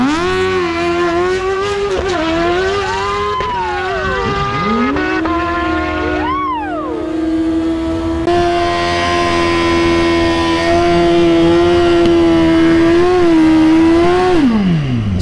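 A Suzuki GSXR 1000 motorcycle engine revs loudly at a race track, swooping up and down in quick blips, then holding a long, high sustained rev before dropping off at the end.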